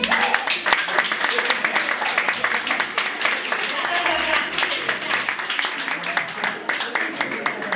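Audience clapping at the Miss Belle Kabylie 2017 beauty pageant, a sustained, even patter of many hands with a voice talking over it throughout.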